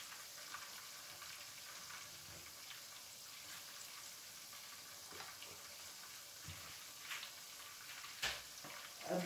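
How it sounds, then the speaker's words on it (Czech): A second batch of food, likely fries, sizzles in a frying pan with a steady, faint hiss and a few brief crackles and pops, without talk. "druhou várku ještě smažím"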